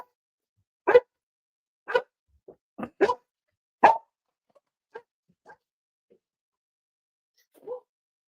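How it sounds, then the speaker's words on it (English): A dog barks in a scattered series of sharp, fairly close barks, several strong ones early and fainter ones trailing off, with quiet gaps between and no voices over them. "I've just got to let the dog out."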